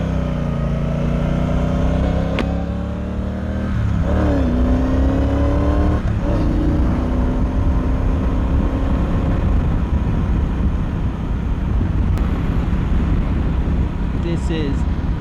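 A 2018 Triumph Bonneville Speedmaster motorcycle rides on the road, its engine droning loud and close with rising and falling pitch as the rider shifts and accelerates, with wind rush throughout.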